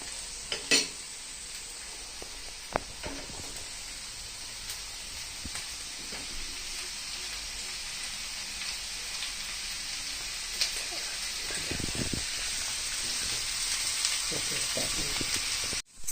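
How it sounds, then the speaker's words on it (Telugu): Onions frying in a pan to make masala for kabul chana, a steady broadband sizzle and hiss throughout with occasional stirring clinks and scrapes, moderately loud and close, no talking. "దానికి ఉల్లిపాయలు వేయించి మసాలా తీయాలి."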